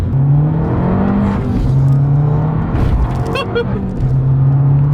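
Abarth Tributo Ferrari with a TD04 turbo, rated at 245 bhp, revving loudly and steadily through its gears with a hesitant, droning engine note and shifting pitch, close by and continuous.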